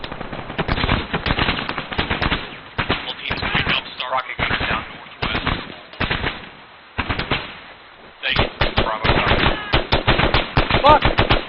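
Rapid bursts of automatic gunfire crack repeatedly during military platoon field training, loud and close, in clustered volleys with short gaps, with men calling out between shots.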